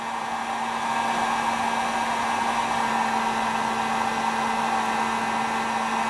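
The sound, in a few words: heat gun blowing on ignition coil on high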